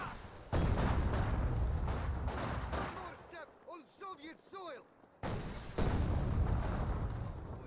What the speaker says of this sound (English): Yeah, continuous fire there.